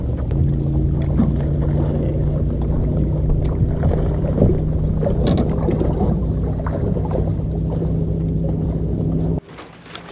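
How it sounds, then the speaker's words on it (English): A trolling motor is lowered and run on a fishing boat on Lake Conroe, giving a steady low motor hum with wind and water noise for most of the stretch, then cutting off abruptly near the end. "we are going to put the trolling motor down real quick"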